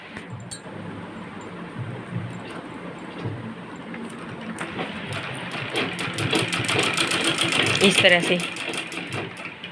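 Sewing machine running steadily along the edge of a kurti neckline, a continuous mechanical stitching whir that builds louder toward the end, with a voice talking over it.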